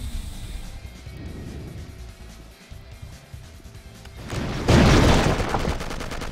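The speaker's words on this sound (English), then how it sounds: "Ah, machine gun." Machine gun fire in the shooter game Will Rock swells late into a loud, dense roar of rapid shots over a busy, rumbling background.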